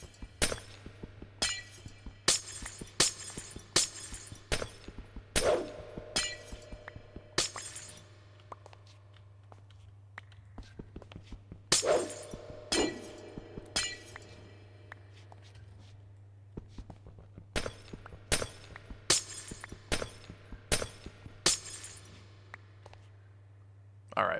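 Glass blocks shattering one after another in Minecraft, sharp crashing breaks in quick irregular bursts with short pauses between, over a constant low hum and occasional soft footsteps.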